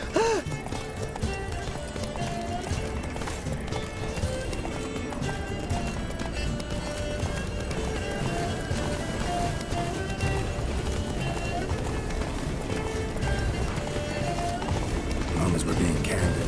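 Roach the horse gallops in The Witcher 3, hooves clip-clopping in a steady running rhythm through the whole stretch, mixed with game music and ambience while people talk over it.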